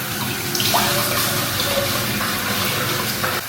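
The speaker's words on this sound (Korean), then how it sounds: "물 부어주고" Water pours steadily from a tap into a slightly oversized pot for cooking rice, a continuous close splashing flow that runs the whole time without a break.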